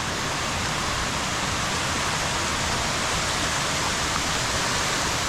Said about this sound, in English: This is what it is, waterfalls.